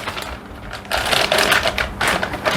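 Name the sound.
unwrapping plastic packaging from a Goblin helicopter canopy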